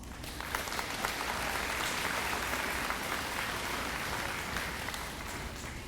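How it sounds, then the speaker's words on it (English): At the Oak Grove High School class of 2026 graduation ceremony, a large crowd gives the faculty a sustained round of applause, a steady, fairly distant wash of clapping lasting about six seconds. "Students, let's also give the faculty a round of applause."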